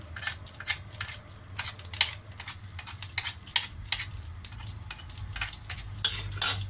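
Pork lard sizzling in a hot pan at the start of scallop fried rice, a steady close crackle with repeated sharp clinks and scrapes of a spatula or utensil against the pan, no talking.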